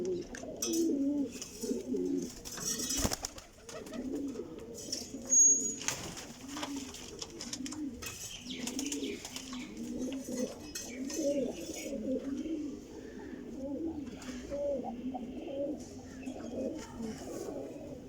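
Sialkoti flying pigeons coo in soft, repeated rolling phrases, several birds overlapping close by, with a few faint clicks and rustles around them and no talking.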